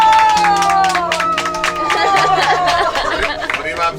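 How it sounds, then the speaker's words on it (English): Onlookers by a lake in Montenegro clap and cheer for a man landing fish, rhythmic claps mixed with lively chatter and voices close by. "Everyone giving some claps here to cheer him on for catching some fish."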